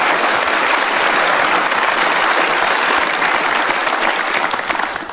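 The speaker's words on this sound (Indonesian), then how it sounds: "kita berikan aplaus untuk Teus" A studio audience at the Indonesian talk show Kick Andy breaks into sustained, even applause, a dense wash of clapping that holds steady for several seconds before beginning to taper.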